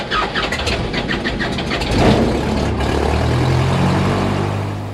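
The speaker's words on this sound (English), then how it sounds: "The Continental O200 is a 100 horsepower, 4-cylinder, horizontally opposed, air-cooled engine" A Cessna 162 Skycatcher's Continental O-200 engine, a 100-horsepower, four-cylinder, horizontally opposed, air-cooled piston engine, cranks with rapid chugging, then catches and settles into a loud, steady idling drone up close.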